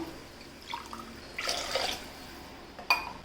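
A short pour of water splashes into a chicken and vegetable biryani pot, close by, followed by a single metallic clink; no talking.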